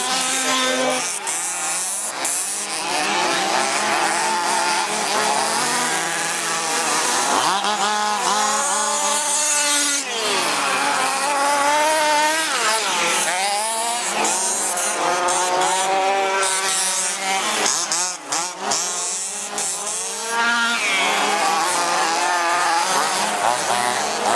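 Petrol-engined HPI Baja radio-controlled cars with 23cc and 26cc motors race at a 2008 cup event in Hillerød, their high two-stroke engines whining and revving continuously, rising and falling as the cars pass close by.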